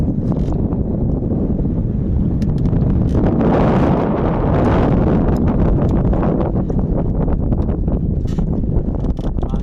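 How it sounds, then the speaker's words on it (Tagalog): Steady, heavy coastal wind on Maqueda Bay buffeting the microphone during blue crab hunting, a loud low roar with gusty rustling throughout and no voices. "Mahangin na mga lods."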